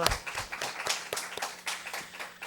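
Scattered hand claps from a small group at a church Zoom worship service, uneven and sparse, repeating for a couple of seconds with no voices over them.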